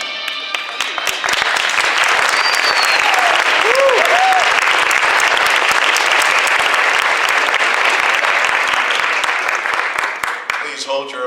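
Studio audience applause for a CBS comedy radio play, Our Miss Brooks: a loud, dense wave of clapping that swells quickly, holds steady for several seconds, then tapers off.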